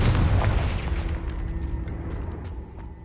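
A Confringo fire spell bursts in Hogwarts Legacy, a heavy booming explosion that hits at once and then rumbles and crackles as it slowly fades away.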